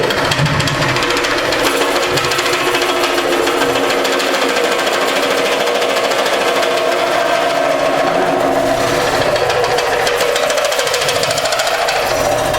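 Wood lathe coring out a wooden bowl, a steady loud whirring drone with a gritty cutting rasp that shifts slightly as the tool widens the opening, continuous throughout with no talk.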